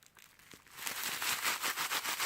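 A mylar emergency survival blanket begins crinkling after a quiet start, building into a steady, rhythmic rustling close by, fairly soft and with no speech.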